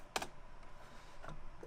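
Typing on a computer keyboard while setting up a mining rig: a quick burst of a few close key clicks at the start, then a couple of fainter taps over low room hum.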